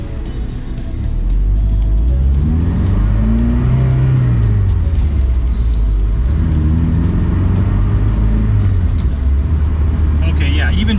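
A Mazda Miata with new suspension parts driving on a road, a steady engine drone from inside the car rising and falling through gear changes, with someone talking over it.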